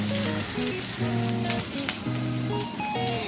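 Onion, green chillies, ginger and curry leaves fry in oil with a bright, continuous sizzle. Faint background music runs underneath the close, steady crackle.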